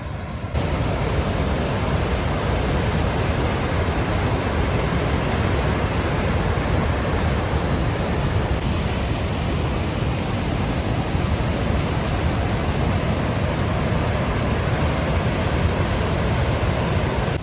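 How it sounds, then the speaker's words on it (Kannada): Heavy floodwater rushes out of the open gates of Attikuni dam after rain, a loud, unbroken roaring wash of falling water that fills the whole scene without pause. "ಎಷ್ಟೊಂದು ಭಯಂಕರವಾಗಿ ನೀರಿದೆ ಅಂತ"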